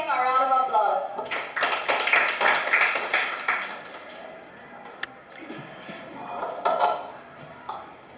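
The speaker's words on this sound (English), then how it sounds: "Let's give him a round of applause." Students in a Grade 10 class debate applaud a speaker heading to the rebuttal, a busy burst of clapping that swells for a few seconds and then thins out as a voice starts talking.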